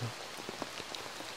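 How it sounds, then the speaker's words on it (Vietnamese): Light drizzle patters steadily over rural Vietnamese rice fields, a dense, even hiss of fine raindrops with scattered soft ticks, close and continuous with no voices. "Cái trời thì bây giờ còn đang mưa phùn đấy"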